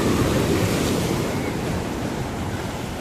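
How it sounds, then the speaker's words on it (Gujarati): Sea waves on a beach in France wash in as a steady, loud roar of broken surf, with wind buffeting the microphone throughout and no voices. "આજે મોજા મારે છે"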